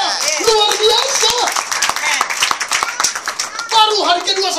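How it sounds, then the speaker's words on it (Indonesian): A church congregation claps in praise to God, with quick claps layered under a loud preacher's voice that carries on throughout. "Tepuk tangan bagi Allah kita"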